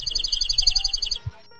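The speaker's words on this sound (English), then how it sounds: "You might also hear an Oregon junco" A rapid, high trill of evenly spaced chips runs for about a second, then stops, followed by a faint soft thump.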